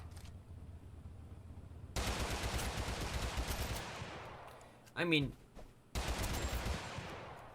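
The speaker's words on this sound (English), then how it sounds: "There's what sounds like a machine gun and a car." Automatic gunfire in the battle-royale game TABG, rattling in long dense bursts that cut in and out, with a brief whining vehicle-like sweep in between.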